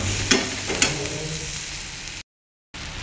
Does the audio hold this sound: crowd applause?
no